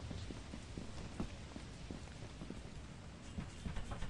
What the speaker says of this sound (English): By the way, it is raining for me